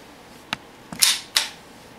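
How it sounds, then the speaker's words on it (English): Magazine going into a Ruger 22/45 Mark III pistol: a light click followed by two sharp metallic snaps, close and crisp in an otherwise quiet room. "Put your magazine in"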